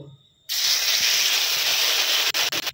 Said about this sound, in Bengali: এইভাবে সবগুলো ভেজে নেব।